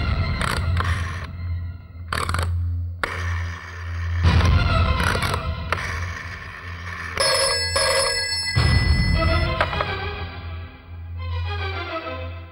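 A telephone rings insistently in repeated electronic bursts, loud and close, with sharp clicks between the rings and no voices.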